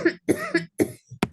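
A person coughing in a series of four or five harsh, close bursts with short gaps between them.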